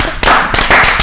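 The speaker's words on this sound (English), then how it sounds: "Should we give them a round of applause?" A small panel audience claps after a fashion-show discussion, a few loud close claps in two short bursts rather than a full crowd roar.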